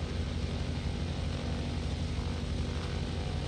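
Propeller engine of an F4F Wildcat aircraft in Kerbal Space Program drones steadily and loudly, a constant low rumble with broadband whoosh held throughout with no break, no voices.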